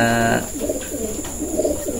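A 2021 pigeon hen coos nearby, soft rolling low coos repeating in short bursts, following a brief tonal hum at the start.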